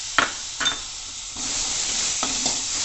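Grated tomato and masala stir-fry in a pan for dal makhani, a steady sizzle broken by a few sharp scraping stirs of a spoon, close and without talking.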